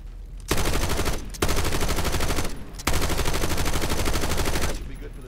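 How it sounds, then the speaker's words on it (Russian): An RPK machine gun in Call of Duty: Black Ops 6 fires three long, loud, close bursts of rapid automatic shots, separated by short pauses. "Как РПК стреляет."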